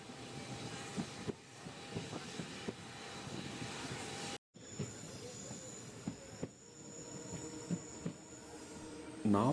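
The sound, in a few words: train travelling from Rameswaram to Madurai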